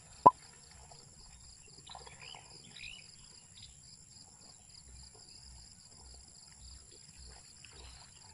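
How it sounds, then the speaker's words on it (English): Faint high-pitched cricket chirring in a quiet rural night by a fishpond, with a soft pulsing rhythm, one sharp click at the start and a few distant bird notes. "Chirping crickets all day long."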